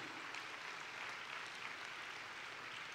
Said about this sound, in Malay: Sekali lagi kita berikan tepukan gemuruh pada mereka